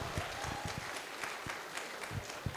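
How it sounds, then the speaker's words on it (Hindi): Audience applause at a motivational talk, a steady wash of many hands clapping throughout, fairly faint and distant with no voices over it. "उनके लिए भी एक जोरदार ताली चाहूंगा"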